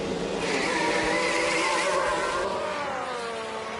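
A Ferrari Formula 1 car driven by Sainz pulls away in F1 Manager 2022 at Miami, its high-pitched engine note climbing and whining steadily for several seconds, loud and close with faint tire noise.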